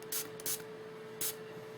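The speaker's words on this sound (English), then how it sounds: "So just spray it." Three quick hissing sprays of e.l.f. makeup brush cleaner from a pump bottle, close by, with short pauses between them over a steady low hum.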